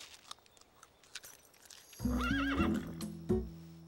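A cartoon horse gives a loud, wavering neigh that starts suddenly halfway through, with hoof clip-clops and a sharp thud after it, following a quiet stretch of faint background sound.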